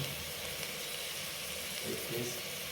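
Fish frying gently in a pan on low heat, a steady soft sizzle and hiss throughout, fairly quiet and close.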